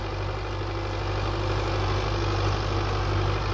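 A Belarus 520 tractor's diesel engine idles steadily and close by, a continuous low rumble with a firm, even hum and no talk over it.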